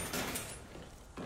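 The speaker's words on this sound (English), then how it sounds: "Open this door." A door opening in the Call of Duty Black Ops Zombies video game, a brief sliding mechanical rush at moderate loudness with no talk over it.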